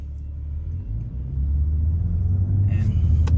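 Low, steady road rumble inside a 2022 BMW M4 Competition xDrive driving over a bumpy road, a continuous deep drone that swells slightly, with a few faint knocks and rattles near the end.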